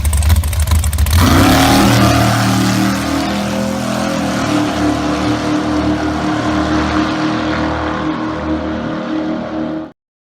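Dragster engine at a drag racing school roaring as it revs and launches, a loud sustained blast with rising pitch that holds steady before cutting off abruptly at the end.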